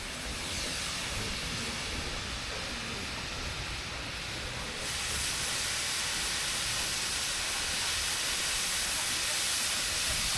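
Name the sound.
steam locomotives blowing off steam at station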